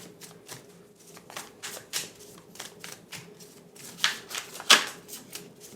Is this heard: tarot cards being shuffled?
yes